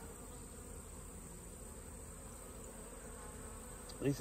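A low, steady drone of honeybees buzzing in an open hive at a distance, faint and continuous, with a short louder sound right at the end.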